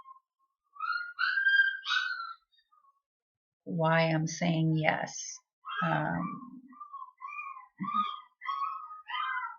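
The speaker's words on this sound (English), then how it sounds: "as you can hear puppies in the background" Puppies whimpering nearby, with several high, thin whines and squeals at the start and end, interrupted by a person talking in the middle.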